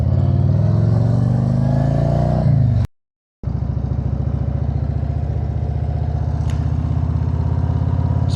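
A 2026 Harley-Davidson Road Glide Limited motorcycle revs loudly up close, cuts out for a split second, then settles into a steady, throbbing engine rumble as it rides away.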